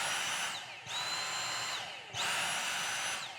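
A Dyson handheld vacuum running on a DeWalt battery gives a steady high motor whine that cuts off briefly twice and then spins back up loudly. The whine is close and continuous, with no talk over it.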